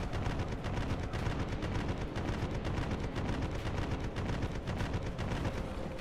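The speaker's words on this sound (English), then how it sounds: "I guess they're gonna shell my shit until I build cannons now." Continuous artillery shelling and gunfire in a video game, a dense, loud, unbroken rumble of blasts and rapid shots with no pauses.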